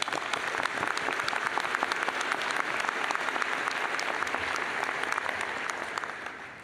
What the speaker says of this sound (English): I think that deserves an applause of gratitude.